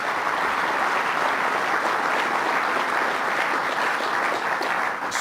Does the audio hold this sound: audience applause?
yes